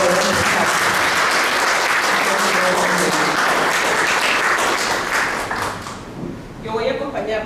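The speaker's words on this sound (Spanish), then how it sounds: "Dediquemos un aplauso a Julia para poder empezar." Sustained applause from an audience at a tribute event in honour of Julia Wong, dense clapping filling the room and tapering off near the end, with some voices mixed in.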